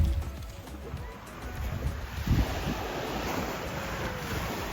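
Surf rolls onto Pinnys Beach on Nevis in a steady wash, with wind buffeting the microphone and a swell of breaking water in the middle, no voices over it.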